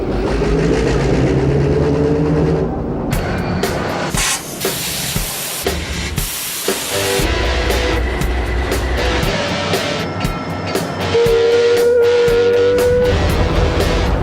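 A railroad rotary snow plow revs up, its engine and blower building into a loud, sustained roar with hissing steam-like bursts and shifting mechanical tones throughout.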